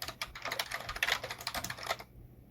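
Rapid, close clicking of computer keyboard keys as code is typed, a dense burst of keystrokes that stops abruptly near the end.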